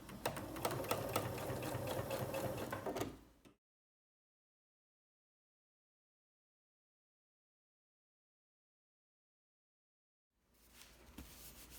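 Sewing machine stitching a quarter-inch seam on a quilt block, a rapid steady mechanical whirring and clatter for about three seconds, then long silence before it starts again briefly at the end.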